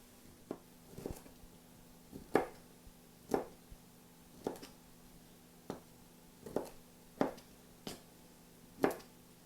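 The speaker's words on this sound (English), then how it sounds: "I'm going to go ahead and start working on chopping up my broccoli" Knife chopping broccoli on a cutting board for soup, a quiet, irregular series of sharp taps spaced about a second apart, close and faint, with a low steady hum underneath and no talking.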